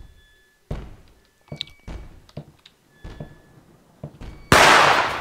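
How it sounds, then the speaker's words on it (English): Gunshots and impacts from a horror video game, several sharp separate cracks and thuds spaced over a few seconds, ending in one loud broadband blast. "There we go, there's your gunshot."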